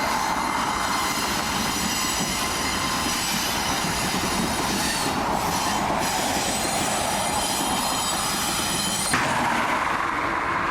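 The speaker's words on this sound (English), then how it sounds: "But yeah, I love trains" A train rumbling across a bridge between Cincinnati and Covington, wheels clattering over the rails with high metallic squeals ringing above a steady, loud roar that continues throughout.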